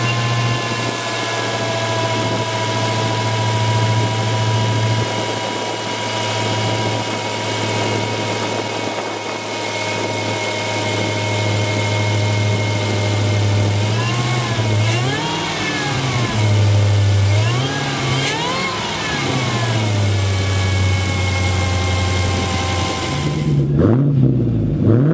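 A 2022 Dodge Challenger SRT Hellcat with a supercharged 6.2-liter Hemi V8 idles with a deep, loud, steady rumble, then revs sharply twice in quick succession, with a further blip near the end.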